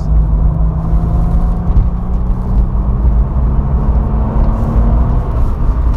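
A Porsche 993 Carrera 2 S with an air-cooled engine drives along, its low steady engine drone and road rumble constant throughout, with a faint tonal hum and no talking.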